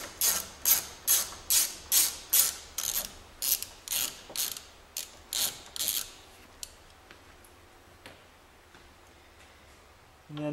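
A hand ratchet loosens a bolt on an Audi engine while the alternator pulley is being replaced, with a fast, close run of rhythmic clicking strokes that slow and thin out toward the end.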